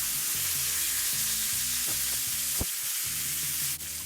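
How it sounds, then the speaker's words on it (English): Steak frying in cooking oil in a pan over high heat, a steady loud sizzle running throughout with a sharp clack around the midpoint and a brief crackle near the end. "Keep the high heat to fry for another 45 to 60 seconds."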